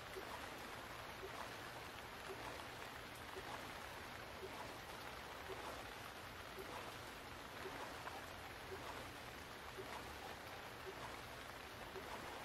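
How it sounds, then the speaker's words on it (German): Rain falling on the ocean around an open rubber dinghy in Stranded Deep, a faint, even, continuous hiss of drops on water with no change in intensity throughout. "Mit einem offenen Gummiboot bei Regen auf dem Ozean rumzufahren"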